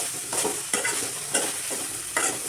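Shallots, garlic, curry leaves, fenugreek and ginger frying in a pan, a close steady sizzle with four regular scraping strokes of a spoon stirring through it, no voices.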